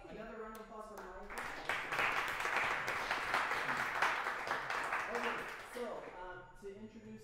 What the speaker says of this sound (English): another round of applause for Mike.